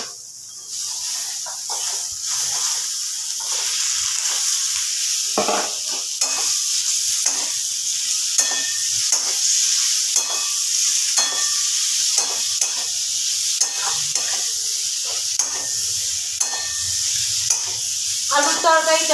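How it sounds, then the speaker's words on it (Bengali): Spices for a dry potato curry stir-fry in a pan with a continuous close sizzle and hiss, punctuated by regular scraping spatula strokes throughout, with no talking. "এবার মশলাটাকে খুব ভালোভাবে কষিয়ে নেব। এখানে জল দেব না, এটা একদম শুকনো আলুর তরকারি হবে।"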